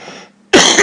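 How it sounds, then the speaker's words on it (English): A single sharp cough from a man, loud and close, following a brief bit of his speech and a short pause. "I had to cough."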